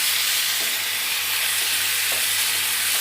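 Cooked young jackfruit frying in a pan of sautéed masala gives a steady, loud sizzle and hiss, with occasional soft scrapes of stirring beneath it.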